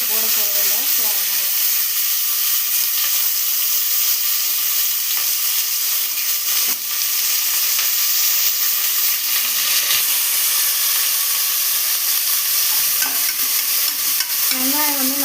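Onions, green chillies and curry leaves fry in a pan for tomato rice, giving a loud, constant close sizzle with occasional stirring scrapes and faint talk in the background.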